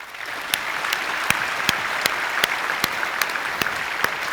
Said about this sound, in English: And let's all give him a huge applause.